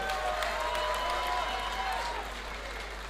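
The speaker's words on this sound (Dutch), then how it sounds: "En geef ze nog een applaus, dames en heren, Raymond Meijering en Arjan de Jong." An audience applauds after a match, producing a steady wash of clapping heard at moderate distance, with faint crowd murmur and a steady low hum beneath.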